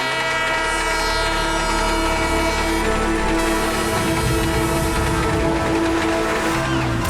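An animated Motu Patlu cartoon train runs with a loud, steady rumble under sustained horn-like whistle tones that hold throughout.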